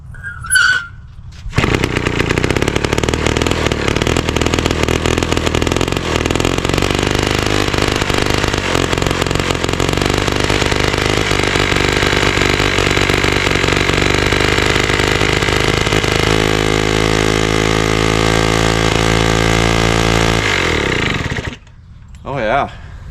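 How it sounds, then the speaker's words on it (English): A 1938 Neptune 1A38 antique outboard motor starts and runs loud and close for about twenty seconds, rough at first and then settling into a steady rapid putter before the fuel runs out and it dies. "She actually sounded really good. Kind of rough there at first and then cleaned itself up."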